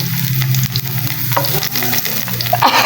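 Garlic and onion sauté in a pan with a steady, close sizzle and crackle, broken by occasional scrapes and stirs of a utensil.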